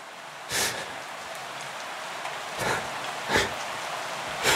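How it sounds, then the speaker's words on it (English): Rain falls in a steady, even patter in The Lighthouse game, with about four brief louder gusts or splashes rising out of the hiss, and no talk. "Look, Daddy, it's raining."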